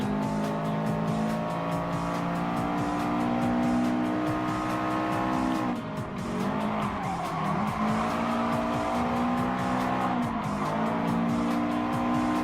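Subaru Impreza racing in Gran Turismo Sport, a steady loud engine drone with tire squeal through the corners and a brief dip in the middle as it takes an inside turn, with no talking over it.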